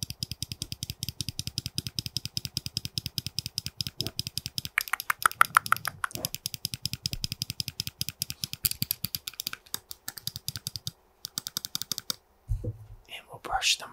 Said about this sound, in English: Some mouse clicks.